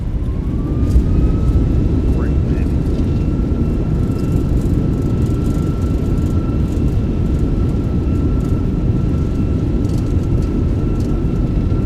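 Steady, loud broadband roar of an Airbus A320 in the Fenix A320 flight simulator during landing rollout with reverse thrust, a constant engine rumble and faint whine holding throughout with no talk.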